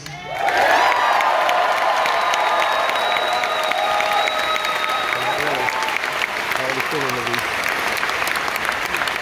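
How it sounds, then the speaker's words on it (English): A large crowd bursts into loud applause and cheering, sustained clapping with whoops, shouts and a few high whistles riding on top, voices calling out amid the din throughout. "Can we hear a round of applause for Luis?"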